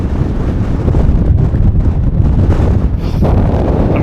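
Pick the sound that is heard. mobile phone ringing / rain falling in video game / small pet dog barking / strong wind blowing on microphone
strong wind blowing on microphone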